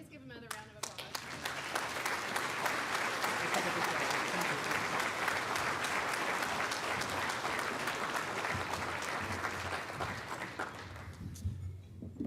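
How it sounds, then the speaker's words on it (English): A large audience at a county's State of the County address gives a sustained round of applause, dense, steady clapping that swells quickly, holds for about ten seconds and then tapers off. "Can we just give him another round of applause?"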